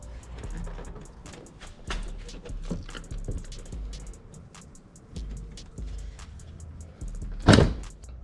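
Plastic tail light on a BMW F30 sedan snapping out of the rear body, a single loud sharp pop near the end after scattered small clicks and handling noises, close by.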